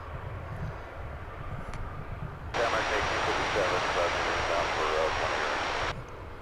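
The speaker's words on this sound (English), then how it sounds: "this flight that's taking off here" An airliner taking off at DFW Airport, a broad jet roar that sets in abruptly mid-way, stays loud and steady for about three seconds, then cuts off, over faint background rumble.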